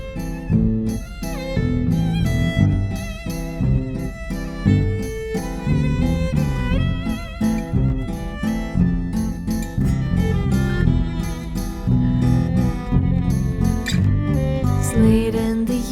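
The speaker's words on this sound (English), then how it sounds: "I'm gonna put the bass up a little bit more in the mix than naturally would be so you can hear it" An electric bass plays a simple supporting line within a full band mix, steady rhythmic low notes under drums, guitars and other instruments, with no talking.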